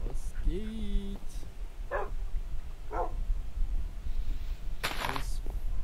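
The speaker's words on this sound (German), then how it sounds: "Oh, Hunde." In a video game, dogs give a few short, separate barks and yips spread across several seconds, mixed with other game sound effects and a steady background hum.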